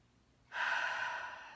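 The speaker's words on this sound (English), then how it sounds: "So let's just take some nice deep breaths to settle in." A single deep breath is drawn in softly and close, a breathy hiss that holds for about a second after a quiet moment, in a calm, quiet room.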